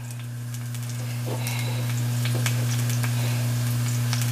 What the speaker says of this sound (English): my mushrooms. Just saute them.